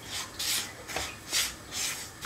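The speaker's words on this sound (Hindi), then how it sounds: "सूजी को हमें थोड़ा भून लेना है" A spoon repeatedly scrapes and rubs through semolina being dry-roasted in a pan, producing rhythmic raspy swishes about every half second, close and moderately loud with no speech.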